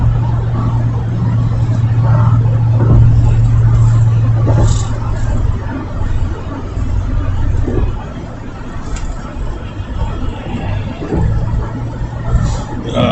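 Steady road and engine rumble from a car being driven across a bridge in traffic, a continuous low drone with passing vehicle noise throughout and no talk.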